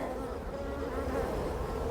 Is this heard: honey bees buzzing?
yes